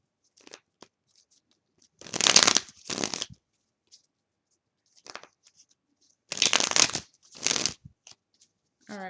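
Tarot cards shuffled by hand in two clusters of crisp riffling bursts separated by a quiet pause, close and fairly loud, with faint scattered rustles between.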